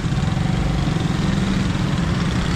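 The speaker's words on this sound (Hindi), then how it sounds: "और ये रॉन्ग साइड आती हुई बाइक" A motorbike engine rumbles close by on a busy Karachi street at night, in Liaquatabad, a steady low chugging drone with no pauses.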